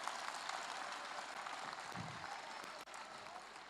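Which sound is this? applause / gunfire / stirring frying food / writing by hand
applause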